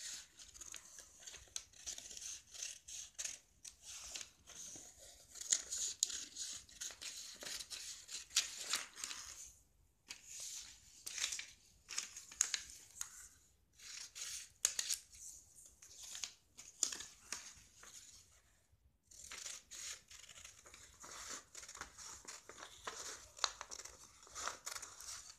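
Scissors snip through paper while a princess-cut blouse pattern is cut out, with faint, irregular cuts and rustling paper going on quietly for the whole stretch.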